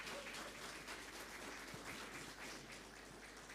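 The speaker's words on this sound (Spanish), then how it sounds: "fuertes aplausos." Church congregation applauding during a special evening worship service after a singing group's performance, a steady dense wash of clapping held at an even level with no talk over it.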